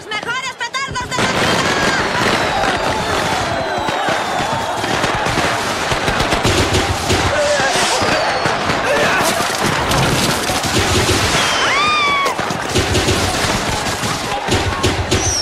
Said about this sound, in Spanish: ¡Los mejores petardos de la ciudad! ¡Traen buena suerte para el año nuevo!